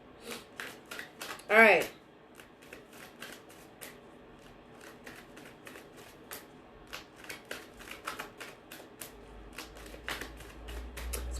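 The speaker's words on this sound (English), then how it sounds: "Cut the deck again." Tarot cards are shuffled and cut by hand, a soft run of riffling and flicking taps with a brief louder ruffle near the start, while a voice speaks quietly over it.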